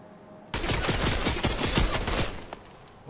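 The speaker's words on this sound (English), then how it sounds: "He's got a fucking little Gatling thing." A Gatling gun in a video game fires in a loud, rapid burst of closely packed shots that starts abruptly and tails off near the end, with no talk.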